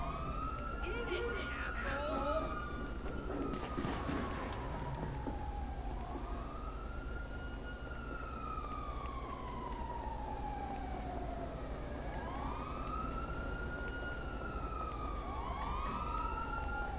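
Police siren in the video game GTA 5, wailing up and down in repeated sweeping cycles throughout, loud and steady under excited talk from players.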